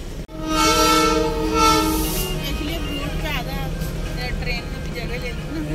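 Darjeeling Himalayan toy train on the heritage mountain railway: a loud, sustained horn blast sounds up close, followed by a steady rumble of the train's running noise with voices mixed faintly in the background.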